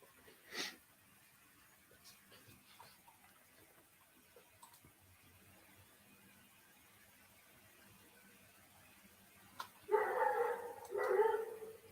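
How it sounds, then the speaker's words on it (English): Angry dogs barking in a short burst of harsh, rapid barks near the end, preceded by a single sharp sound early on and a long stretch of quiet room tone. "Angry dogs."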